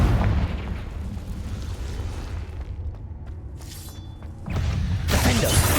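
Repeated Confringo fire spells burst in Hogwarts Legacy combat, a loud crackling, shattering blast that fills the scene, dips briefly, then erupts again into dense explosive noise near the end.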